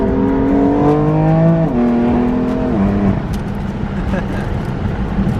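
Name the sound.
Nissan R35 GT-R car engine revving while driving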